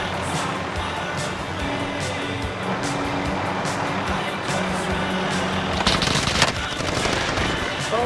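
Video game gunfire crackles as continuous rapid bursts under a dense, noisy battle mix, with a louder sharp volley near the end.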